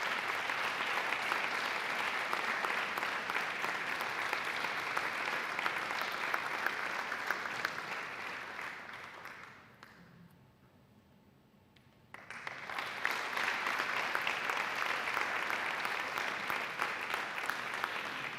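Audience at a Parliament of Catalonia ceremony for World Blood Donor Day applauds an award, sustained dense clapping that fades briefly to near quiet before swelling again at full strength.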